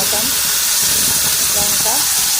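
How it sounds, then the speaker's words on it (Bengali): Spice paste of ginger, garlic, onion and tomato frying in a hot pan for a fish curry, giving a loud, steady, close sizzle and hiss throughout, with faint voice traces beneath. "এই মশলাগুলো পেস্ট করে রেখেছি ওইটা দিয়ে দেব। আদা, রসুন, পেঁয়াজ, টমেটো,"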